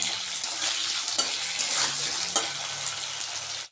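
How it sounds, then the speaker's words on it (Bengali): Shrimp fry and sizzle in a hot wok while being stirred, a steady bright crackle with repeated scraping stir strokes, close and alone. "দিয়ে কাঠি চিংড়িটা দিয়ে কষানো হয়ে গেছে"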